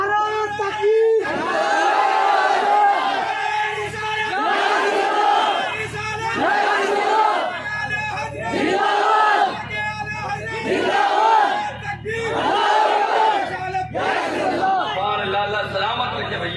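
A crowd at a religious stage program chants the Nara-e-Takbeer slogan in loud, rhythmic bursts, a call followed by a massed shouted response, repeating about six times at steady intervals.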